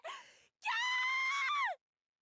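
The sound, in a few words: screams in Death end re;Quest video game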